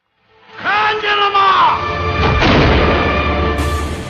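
A gunshot in a dubbed action fight film lands as a sudden boom under a rising tonal whoosh, followed by a sustained rumbling crash and noisy tail mixed with dramatic soundtrack effects.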